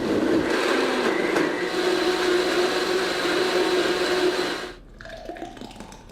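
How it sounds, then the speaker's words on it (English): A countertop blender whirs steadily while blending a smoothie of powder and two cups of water, a loud, continuous motor drone that cuts off abruptly near the end, leaving quiet kitchen sounds. "let that blender do what it does best."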